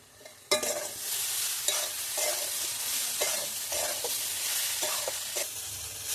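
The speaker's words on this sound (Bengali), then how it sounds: "এর মধ্যে এবার আমি গেরিগুলো দিয়ে দেব দিয়ে ভালো করে আমি কষে নেব" Pond snails are stir-fried with ground cumin and coriander in a pan. A loud, steady sizzle is broken by repeated scraping stirs, with no talking.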